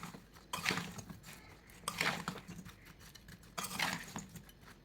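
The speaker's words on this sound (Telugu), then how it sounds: "ఇప్పుడు మనం ఉప్పు బాగా కలిసేటట్టు కలబెట్టేసుకోవాలి ముక్కల్ని" Lemon pieces being stirred with salt for pickle, giving three bursts of scraping, clinking mixing strokes with quiet pauses between, fairly soft and close, no voices.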